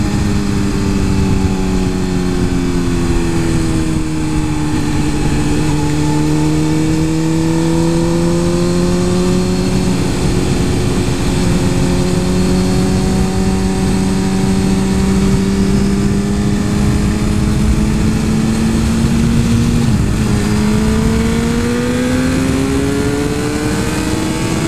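A Suzuki GSX-R 1000 superbike engine roars continuously at close range, with pitch rising and falling through acceleration and gear changes, including a sharp shift and renewed climb near the end.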